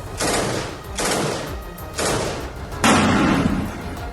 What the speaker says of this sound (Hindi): जैसे ही उन्हें दुश्मन के नजदीक आने की भनक लगी, फायरिंग शुरू हो गई